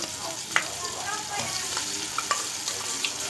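Poppy seed and mustard paste hits softened, frying tomatoes in a pan, giving a steady close sizzle with occasional soft clicks and scrapes from stirring.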